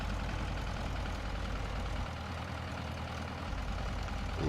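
A simulated Piper Cherokee 140 engine idles at about 1000 rpm in the X-Plane flight simulator, giving a steady, fairly quiet low drone with an even rumble and no voices.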